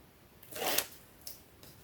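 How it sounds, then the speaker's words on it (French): Scissors cutting the corner of a paper album cover page during binding, heard as one longer papery snip followed by two brief quieter cuts, close and crisp in a quiet room. "Si l'angle n'est pas beau, eh bien on le coupe."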